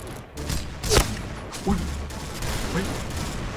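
A few sharp rifle shots crack out from a VSK94 sniper rifle in the shooter game Point Blank, each separated by mechanical clicks and bolt-like clatter.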